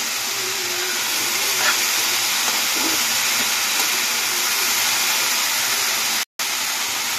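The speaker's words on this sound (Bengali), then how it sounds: "এবার এগুলোকে ভালো করে ফ্রাই করে নেব" Chickpeas with a little turmeric frying in a pan, a steady broadband sizzle and hiss that holds evenly near and loud, broken by a brief gap toward the end.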